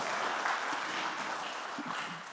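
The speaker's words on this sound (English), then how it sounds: "give them a round of applause" Applause from a real estate market forecast audience, a steady dense patter filling the whole stretch at fairly low level, with no talk over it.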